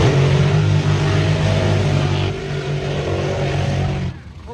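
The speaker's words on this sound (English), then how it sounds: "you just heard Ron Capps and John Force doing their burnout" Nitro funny car engines roar through burnouts at an NHRA drag strip during qualifying in Minnesota, a loud sustained blast from both lanes that drops off abruptly near the end.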